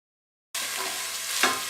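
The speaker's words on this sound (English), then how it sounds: "add in your chopped sweet pepper and saute these together" Chopped sweet pepper and onion hit a hot pan and start sauteing, a sudden close sizzle that keeps crackling steadily, with a brief stir partway through.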